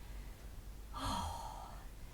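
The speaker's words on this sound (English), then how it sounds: "Oh, I'm yawning again" A single drawn-out yawn, breathy and fairly quiet, rising then trailing off over about a second during an ab workout session.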